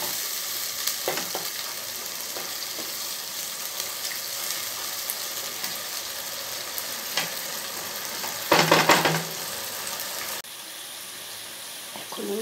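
Ginger-garlic paste fries with spices in a pan, giving a steady, close sizzle with occasional stirring scrapes and a louder burst of crackling near the end.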